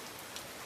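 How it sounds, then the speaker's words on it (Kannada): Steady rain falling, an even dense hiss of drops filling the brief moment. "ಮಳೆ"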